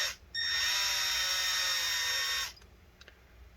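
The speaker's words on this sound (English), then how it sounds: "then we're going to drill through this plastic piece here." A drill bores through a small plastic fan piece inside a Lenovo Legion Y545 laptop: one close, high-pitched whining burst of about two seconds, starting and stopping abruptly with no talk.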